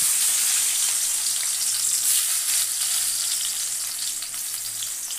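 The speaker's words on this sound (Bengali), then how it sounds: "পেঁয়াজটা ভালো করে ভেজে নেবো" Onion frying in hot oil, a dense, continuous sizzle that holds steady and close for several seconds, loud and unbroken, with no voices.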